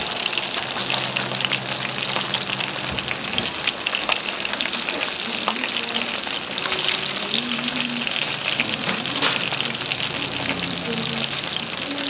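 Chicken frying in hot grease, a loud continuous sizzle and crackle filling the whole stretch with no talk over it.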